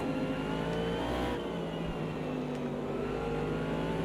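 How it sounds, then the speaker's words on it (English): Distant GT3 race cars in the Automobilista 2 racing game drone and whine on the far side of the track, a continuous far-off engine hum rising and falling without any talking. "hearing the cars on the other side of the track"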